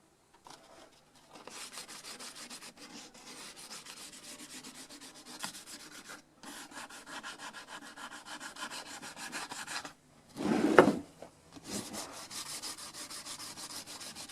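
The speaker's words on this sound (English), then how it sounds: "I think I'll need to go back and sand it again" Sandpaper rubbing the wooden edges of a hand-made guitar, quiet back-and-forth scratchy strokes in steady bursts with short pauses and one louder scuff near the end.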